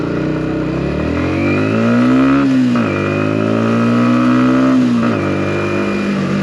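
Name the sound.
125cc motorcycle riding, Yamaha MT125 or Voge R125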